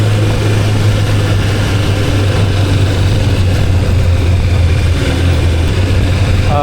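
Vintage sport touring motorcycle, a roughly 560-pound bike, holding steady at about 4,000 rpm: a loud, continuous buzzing engine drone with a strong low hum and wind rush, no voices.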